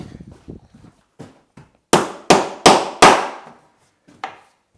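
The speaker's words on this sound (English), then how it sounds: "Tap that hinge in again." A hammer strikes a metal door hinge in four sharp, evenly spaced taps, close and loud, followed by one lighter tap after a pause.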